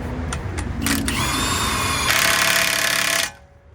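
A power tool drives the axle nut onto a Ford Taurus rear wheel hub, with a few quick clicks, then two short bursts and a sustained loud whirring rattle that stops abruptly, close by.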